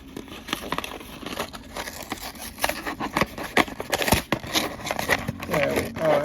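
Scissors snip and crinkle through plastic toy packaging during a Christmas present unboxing, a run of close, sharp cuts and rustling crackles with quieter pauses between.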